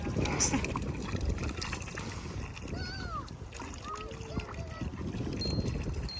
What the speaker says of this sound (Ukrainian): Помой руки сначала.